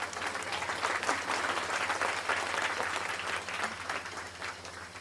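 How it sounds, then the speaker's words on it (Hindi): Steady applause from a crowd at a silver jubilee celebration, weak but continuous and fairly even in loudness for the whole stretch, with no voices over it. "बहुत कमजोर ताली बजाए।"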